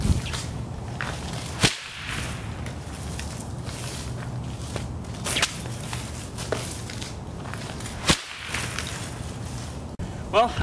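A replica Castlevania chain whip cracks sharply against a sheet of paper, with two distinct loud snaps several seconds apart amid rustling handling sounds.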